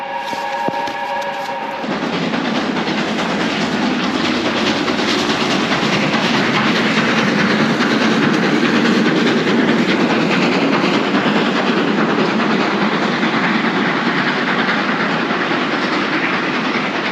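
A steam train passes on a railway line right beside a holiday cottage, opening with a brief whistle before a loud, sustained rumble and rhythmic clatter of wagons rolling past close by.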